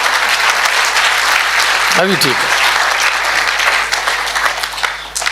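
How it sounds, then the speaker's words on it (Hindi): An audience at a Hindi religious discourse on Hanuman claps steadily in a dense, continuous round of applause, with a voice speaking briefly over it. "अब बजाइए ताली कम से कम आसपास"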